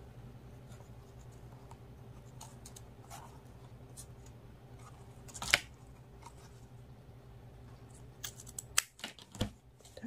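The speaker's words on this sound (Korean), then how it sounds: "그 아래쪽으로 그냥 가위로 잘라주시면 돼요." Scissors cut through crochet mini bag material and zipper, giving a few sharp, brief snips, one near the middle and a quick cluster toward the end, over a quiet steady background hum.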